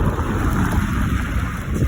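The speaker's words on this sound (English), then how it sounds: "It's very windy." Heavy wind buffeting a microphone while riding a fixed-gear bike through Paris, a steady low rumbling roar that fills the whole stretch.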